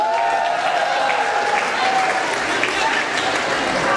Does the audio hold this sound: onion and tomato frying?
no